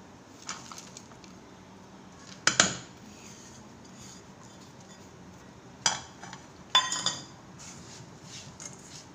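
Metal utensils clink against a pan or bowl as dry fruits go into a sweet gujiya (ghughra) filling: a few sharp, close clatters in separate bursts over a soft, steady kitchen background.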